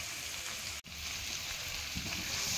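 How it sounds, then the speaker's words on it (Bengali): Hot water poured into a sizzling pan of spiced papaya and potato curry (Bengali pepe dalna), with a brief splash and cut-off, then steady close frying sizzle throughout. "আমি গরম জল দিয়ে দিচ্ছি।"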